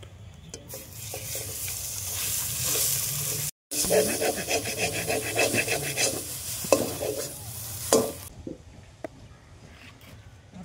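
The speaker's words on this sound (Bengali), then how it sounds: "সেদ্ধ করে রাখা কড়াইশুটির পেস্টটা হালকা অল্প করে ভেজে নেব" Boiled pea paste frying in a pan while being stirred: rough scraping and rubbing strokes over a low sizzle, with a short break and a quieter tail.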